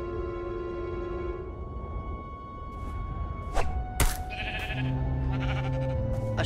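A few short sheep bleats in Minecraft Story Mode ring out over a steady synthetic music bed, with a couple of brief swishes and thumps in between.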